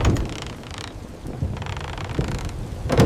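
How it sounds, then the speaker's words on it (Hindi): Thunderstorm with heavy rain and wind, a continuous roar of rainfall and gusts with rumbling thunder swelling through and a loud crack near the end. "उसी रात शहर में तेज आंधी और बारिश शुरू हो गई।"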